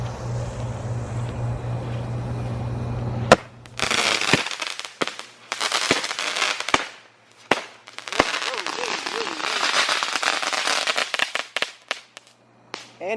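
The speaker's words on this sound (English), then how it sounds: "Toot and Twirl by Phantom Fireworks." A Phantom Fireworks Toot and Twirl firework goes off outdoors, a sharp crack followed by a long hissing, whistling burn broken by several pops and bangs, with wind noise and voices in the background.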